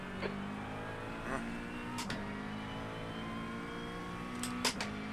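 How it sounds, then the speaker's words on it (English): A GT race car pulls out of the pit lane at Le Mans in iRacing. A quiet, steady engine drone runs under sharp clicks and brief transient bursts. "There's a car leaving the pit lane."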